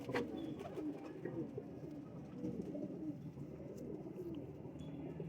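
Pigeons kept for sale coo softly and continuously, low throaty burbling calls overlapping at a moderate distance with a faint background hum.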